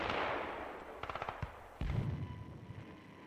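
Distant wartime gunfire, Soviet artillery and machine guns, heard as a faint rumbling background with a short burst of rapid shots and a louder boom partway through.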